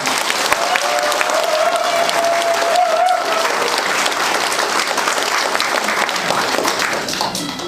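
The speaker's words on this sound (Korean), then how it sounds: "동의해 주시면 박수 한번 해주시기 바랍니다." A crowd at a Korean political campaign rally breaks into sustained applause and cheering, a dense, loud wash of clapping that holds steady throughout.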